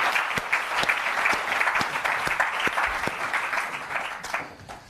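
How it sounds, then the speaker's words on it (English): A live audience at a pitch competition finale applauds the judges, sustained dense clapping at an even level for about five seconds before easing slightly at the end. "Big round of applause for the judges."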